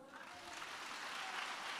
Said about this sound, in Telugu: ఒకసారి అత్యానందంతో కొట్టు చప్పట్లు